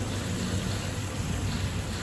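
Water rushing steadily through a hands-on water exhibit at the Bursa Science and Technology Centre, a continuous close wash of splashing flow with no voices.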